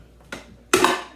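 Onion and garlic scraped out of a pan into a pot: two quick scraping, clattering strokes of a utensil against cookware, close and short.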